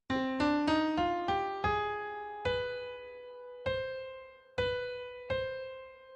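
A harmonic minor scale with a raised B natural is played as a single-note melodic line of clear, ringing pitched tones, quick at first and then slower, each sustaining and fading.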